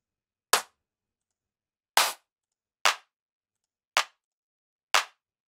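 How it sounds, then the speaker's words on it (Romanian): Five sharp, dry clap hits from a Tech House sample library in Cubase sound alone, evenly spaced about a second apart, each a crisp snap with a quick decay. "Clap."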